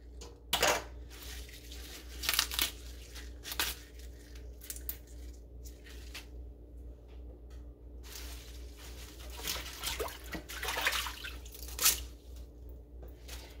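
Garden kale leaves washed in water, with scattered drips, splashes and wet squishy handling in irregular bursts, close and fairly quiet against a low steady hum.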